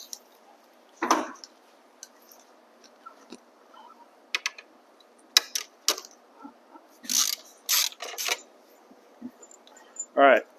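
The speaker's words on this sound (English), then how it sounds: "unbolt the lower shock linkage here" Ratchet wrench unbolting the lower shock linkage on a Talaria XXX Pro electric dirt bike, with scattered quick ratcheting clicks and metallic bursts in a quiet workshop, separated by pauses.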